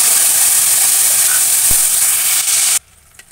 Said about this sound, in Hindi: टमाटर कच्चे थे तो ये पक रहे हैं टमाटर।